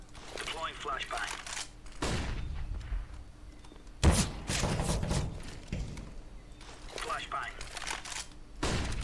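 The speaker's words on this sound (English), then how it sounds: "Deploying flashbang." A flashbang grenade goes off in a tactical shooter game amid bursts of gunfire and thuds, with a sharp loud bang in the middle and players talking over the action.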